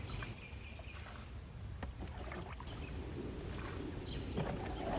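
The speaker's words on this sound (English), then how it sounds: "I can bail the remaining water and empty the basin out." Water is bailed by hand out of a plastic tub fountain basin set into the ground in a backyard. Faint splashing and sloshing sit under a steady outdoor background of wind and ambient noise, with no voices.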